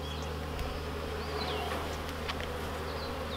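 Honeybees buzz at an opened hive, a dense, continuous hum of many insects close by, with individual bees darting past in brief rising whines.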